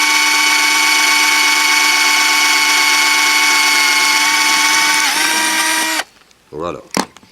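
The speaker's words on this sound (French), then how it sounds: "nous allons percer complètement la plaque d'alu." Power drill boring fully through an aluminium plate, a loud steady whine holding for about six seconds before cutting off, followed by brief faint clatter.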